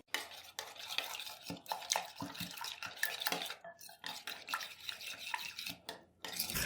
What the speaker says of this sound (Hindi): अब अच्छे से हम मिक्स करेंगे।